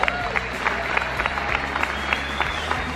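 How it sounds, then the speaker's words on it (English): An audience claps at the Monster Jam World Finals awards ceremony at Hard Rock Live in Orlando, a dense, steady wash of applause with rhythmic accented bursts and a low background hum throughout. "Yeah, we can clap for that."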